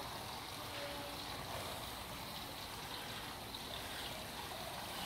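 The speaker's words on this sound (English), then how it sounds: "There's a water fountain in Greeley City Hall." An indoor water fountain at Greeley City Hall trickles and splashes continuously, a faint, even stream of running water with no voices.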